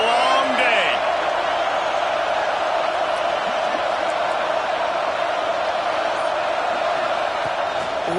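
A full stadium crowd at an American football game roars loudly and steadily throughout, with a commentator talking over it.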